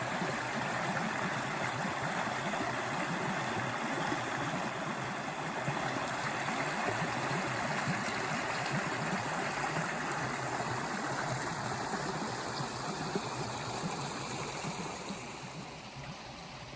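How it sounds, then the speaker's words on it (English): A stream's rushing water beside a Connecticut hiking trail, a loud, steady, close broadband roar that fades slightly near the end. "Right up here to the left, rushing water."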